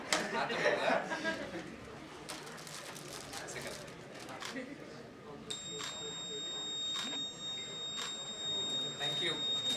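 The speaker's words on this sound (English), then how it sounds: "So buzzer भी बज रहा है" Buzzer going off in a conference hall at a tech event, a thin steady electronic tone sounding partway through and holding on, beneath murmuring crowd chatter and scattered clatter.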